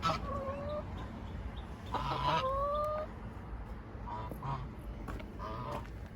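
Chickens and a small rooster in a backyard flock cluck and squawk in short bursts and a couple of rising calls, moderately close against faint background noise.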